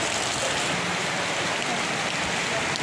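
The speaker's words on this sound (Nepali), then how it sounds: "पानी परेको अवस्था यस्तो छ" Steady rain pours down on a quiet town street on a cool morning, an even hiss of falling water with no voices.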